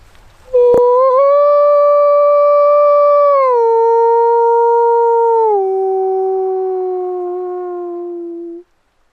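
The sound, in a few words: hunter imitating a wolf howl with a locator call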